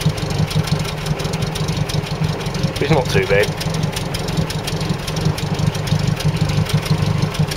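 A Land Rover Series 3 engine idles with a steady low rumble and an uneven misfire, close and continuous, while someone speaks briefly over it.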